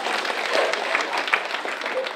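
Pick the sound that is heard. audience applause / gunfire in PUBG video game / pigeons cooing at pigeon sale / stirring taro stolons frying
audience applause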